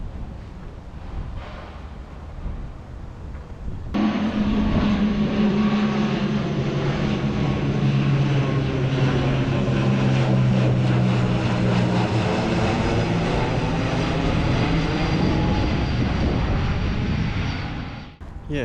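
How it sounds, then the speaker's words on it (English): A plane on the London City Airport flight path over Silvertown passes low overhead, its engine roar swelling loud and steady for most of the stretch before easing away. No voices are heard over it. "if you like aeroplanes, come to Silvertown near City Airport, right underneath the flight path"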